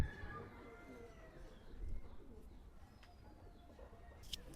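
Pigeons at a market sale of local and Pakistani teddy pigeons coo softly in low throaty phrases, with a few brief chirps and background bustle.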